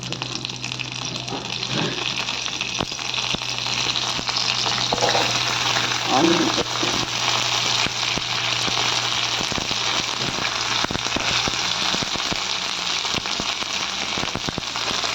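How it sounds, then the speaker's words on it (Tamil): Curry leaves and fennel seeds frying in hot oil in a pan give a steady close sizzle and crackle with a few louder spits, continuing throughout with no talk. "கொஞ்சம் கருவேப்பிலை போட்டுக்கலாம்."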